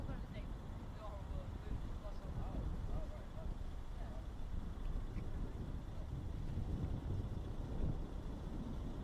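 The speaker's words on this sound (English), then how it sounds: "so the wind's obviously playing a part as well." Strong, steady wind buffets the camera microphone outdoors, a constant low roar and rumble running through the whole stretch with faint background sounds underneath.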